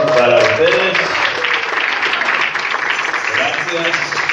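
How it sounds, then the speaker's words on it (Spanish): Dense applause from a church congregation greeting third-year graduates at a diploma ceremony, loud and steady throughout with voices mixed in. "Fuerte aplauso para ustedes."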